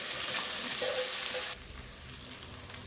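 Soaked sago and potatoes frying in a pan, a bright steady sizzle that drops abruptly to a quieter crackle halfway through, close and alone.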